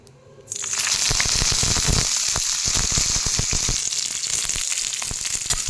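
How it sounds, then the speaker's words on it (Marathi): Green chilies frying in a spoonful of oil in an iron kadai, a sudden loud sizzle that jumps in and holds as a continuous crackling hiss with popping spatters and occasional stirring scrapes. "मिरच्या तर या मिरच्या तळून झालेल्या आहेत"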